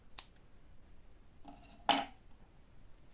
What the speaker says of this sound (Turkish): artık buradaki ipimi kesiyorum fazlalık ipimi